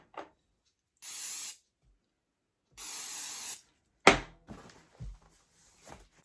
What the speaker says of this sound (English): I really want to make sure that the heel gets the proper spraying